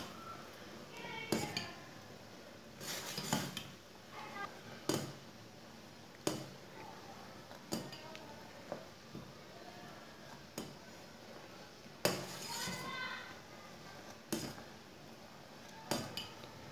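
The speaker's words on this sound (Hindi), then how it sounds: "इसे ऐसे ही फेंटते हुए 5 मिनट तक पकाना।" A whisk or spoon clinks repeatedly against a metal pot as milk tea is beaten while it cooks, sharp metallic taps at an uneven pace over a faint simmering background.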